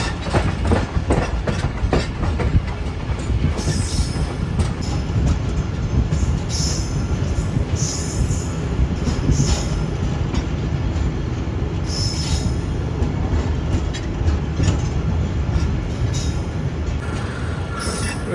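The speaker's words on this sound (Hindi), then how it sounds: "2:30 बजे ट्रेन हमारी अप्रोच बना रही है शुजाबाद रेलवे स्टेशन पर" A Pakistan Railways passenger train approaching Shujabad railway station: a loud, steady rumble with rhythmic wheel clatter and high squeals from the wheels.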